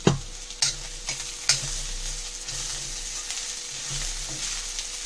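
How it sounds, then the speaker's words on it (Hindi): Stuffed bitter gourd masala, spiced with coriander powder, homemade garam masala and salt, frying in a pan with a steady sizzle. Several sharp spoon scrapes and stirs land near the start, then softer stirring continues. "अब अच्छे से भून लेते हैं इसको"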